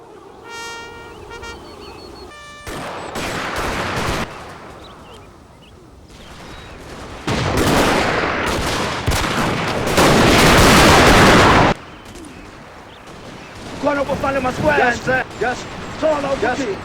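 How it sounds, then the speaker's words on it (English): Gunfire in a Total War cinematic battle between Zulus and Boers: dense crackling volleys and sustained bursts of rifle fire come in loud waves, with a narrating voice speaking between and over them. "Retief ordered his men to dismount and open fire."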